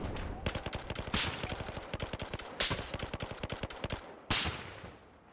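Rapid automatic gunfire in Battlefield 4 multiplayer on the Siege of Shanghai map, long dense bursts of sharp shots with short gaps, loud and close, no talk.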